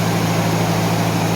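A 1991 Mercedes 190E, just fitted with new lifters, idles with a steady low hum and even mechanical drone, close and continuous with no voices.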